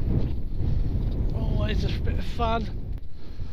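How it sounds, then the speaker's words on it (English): Gusty wind buffets the microphone at a model airplane flying field, a steady low rumble throughout with someone briefly talking over it. "Nice and windy for us again."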